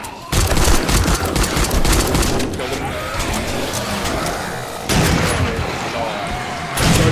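Gunfire in the zombie survival game 7 Days to Die comes as bursts of loud, rapid shots over a dense, roaring game background, with fresh volleys starting abruptly near the middle and again near the end.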